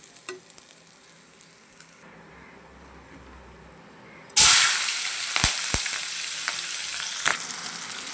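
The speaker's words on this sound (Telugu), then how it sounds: "ఇప్పుడు ఆనియన్స్ అయితే వేద్దాం." Onions dropped into hot oil in a pan for an eggplant and dried fish curry, a sudden loud sizzle that keeps frying steadily, with a few sharp crackles and pops.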